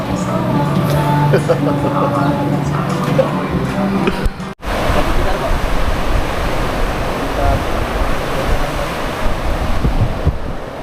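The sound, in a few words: waves at the seaside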